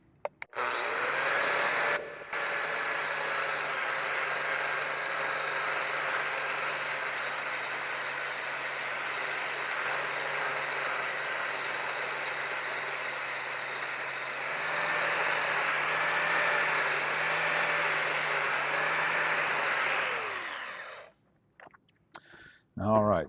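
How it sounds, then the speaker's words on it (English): An angle grinder with a 40-grit flap disc grinds a metal die during fabrication. A loud, steady whine holds for about twenty seconds, shifts slightly partway through, then spins down into a few clunks. "I can switch over to my flap disc, 40 grit, and then we'll touch this up"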